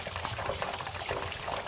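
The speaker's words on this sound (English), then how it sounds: "You're going to pour 2 bottles, or 2 gallons, whatever's handy," Bleach poured into a well, a continuous close splashing and gurgling of liquid with bubbling texture, steady throughout.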